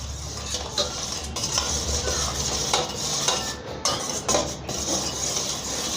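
Salt stirred into a chicken marinade in a bowl, a steady wet scraping and churning that runs the whole time with occasional light clinks of the spoon against the bowl.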